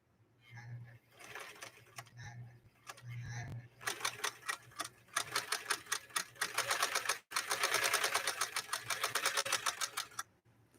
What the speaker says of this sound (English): Time to sew carpet.